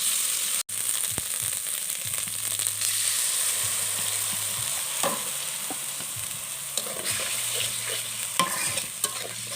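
Ginger garlic paste frying with browned onions in hot oil, giving a steady sizzle throughout, with intermittent scrapes and clinks from stirring against the pan.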